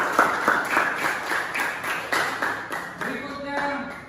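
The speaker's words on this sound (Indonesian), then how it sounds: "tepuk tangan untuk kelompok 2" Brief applause from a small group in a classroom or workshop after a group presentation, with scattered hand claps continuing and a voice speaking underneath toward the end.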